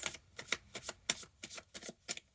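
A quick series of crisp riffling bursts as tarot cards are shuffled, about nine snappy flicks in a brisk, uneven rhythm, close by.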